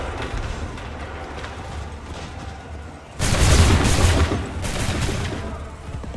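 Musket volley in Assassin's Creed III erupts as a loud, dense burst of massed gunfire over a low rumbling battlefield, followed by a second crackling wave of shots.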